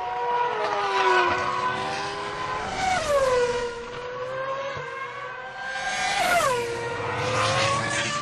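Lewis Hamilton's Formula 1 car screams as it accelerates through the gears, engine pitch rising and dropping sharply at each upshift, loud and close with no voices.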